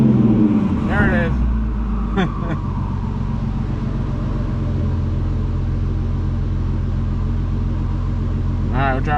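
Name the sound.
car engine revving on an N2MB WOT Box two-step limiter, misfiring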